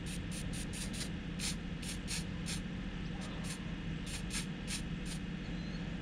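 An aerosol spray paint can sprays a homemade silhouette goose decoy in short hissing bursts, repeated in an irregular rhythm. The bursts are close and sit over a constant background noise.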